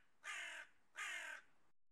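Two harsh crow caws in the hunting video game Hog Hunter 2021, evenly spaced about a second apart, fairly loud against a faint ambient background with no talk.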